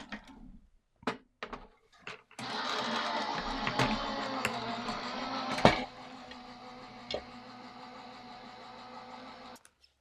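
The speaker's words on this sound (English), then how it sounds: "run that through the die cut machine" A die cut machine runs a trimmed paper panel through in a craft studio, giving a steady, fairly loud mechanical whirring rumble for about seven seconds after a few scattered knocks, then stopping abruptly.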